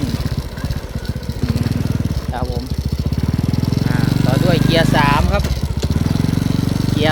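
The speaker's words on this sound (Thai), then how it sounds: "อ่าขี่ไปเลย ต่อด้วยเกียร์สองครับไปเกียร์สองขึ้น" A used motorcycle rides off and shifts up through the gears. Its throbbing engine is loud and close, and the revs climb and settle with each shift while someone talks over it.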